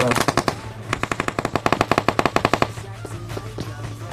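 Rapid automatic gunfire in the PUBG Mobile video game on a snowy map crackles in several close bursts of sharp, evenly spaced shots, then trails into quieter scattered sounds over a steady low hum.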